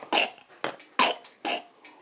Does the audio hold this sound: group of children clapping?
no